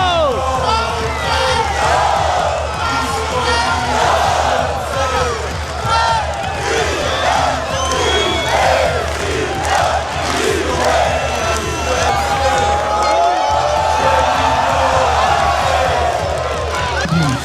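A large football stadium crowd roars and chants continuously, a dense wall of cheering and shouting voices that swells steadily without break.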